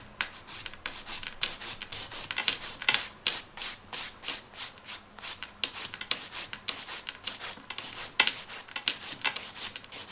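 A nail file rubs on gel nail polish near the natural nail using its gentler side, giving rapid rhythmic rasping strokes in quick bursts, close and clear, with no talking.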